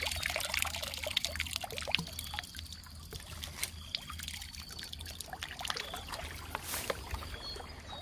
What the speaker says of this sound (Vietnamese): mình đánh nguyên suối đấy các bạn, nhìn nước chảy